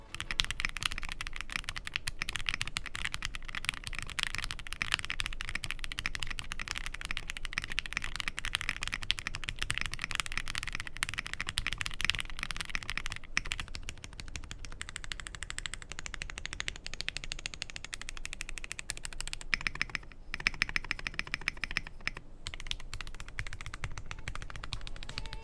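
Continuous fast typing on a Zoom65 EE V2 mechanical keyboard with its case foams removed, leaving only PE and plate foam; dense, steady clacky keystrokes up close with no talking.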